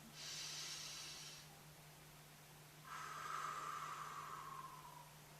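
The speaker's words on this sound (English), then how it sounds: "breathe again just like you did in the very beginning, where you breathe in nice and deep" Two slow, deep breaths drawn in through the nose during a calm animal-themed meditation, each a soft, airy rush lasting about a second or two, separated by a quiet pause over a faint steady hum.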